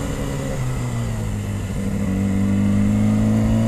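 Yamaha R6 sport motorcycle engine under way, a loud continuous drone whose pitch climbs steadily as the bike accelerates, with wind rush over it and no talking.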